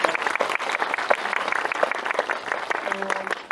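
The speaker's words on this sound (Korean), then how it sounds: "박수 한번 드리겠습니다" An audience at a film Q&A screening of the movie 행복의 나라 gives sustained, dense applause in a hall, with voices audible underneath.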